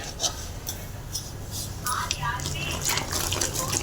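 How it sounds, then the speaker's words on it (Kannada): Water is poured into a spice mixture in a kitchen as it is mixed by hand, a running, splashing trickle heard close up under ongoing talk. "ಇದನ್ನೀಗ ಸ್ವಲ್ಪ ನೀರು ಹಾಕಿ ಕಲಸೋದು."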